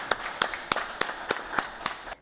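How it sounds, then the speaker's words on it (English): Sparse, faint clapping from a small audience, about eight separate claps in an even rhythm over a couple of seconds. "You deserve a big round of applause."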